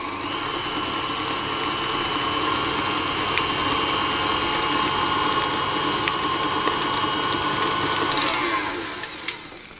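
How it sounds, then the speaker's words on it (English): An electric mixer beats butter and cream cheese for a pound cake, giving a steady, loud motor whirr that runs for several seconds before winding down at the end. "the first thing to do is to mix the butter and the cream cheese until it's all combined"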